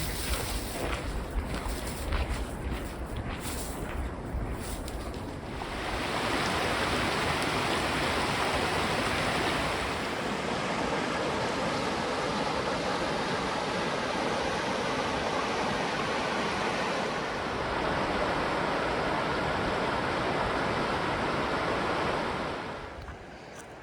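Helmet Falls on the Rockwall Trail, a waterfall in the Rockies, roars as a steady broadband rush of falling water, starting moderately and swelling fuller after a few seconds, continuous and fairly near with no voices.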